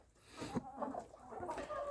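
Chickens cluck and murmur close by in a coop in a series of short, uneven calls, with a few higher squawks mixed in.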